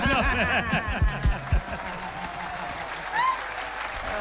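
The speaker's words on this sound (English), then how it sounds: "DJ, go and clap for yourself." A short burst of clapping mixed with chatter and a bit of laughter, fading under continued talk.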